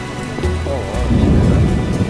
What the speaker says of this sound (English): Real downpour.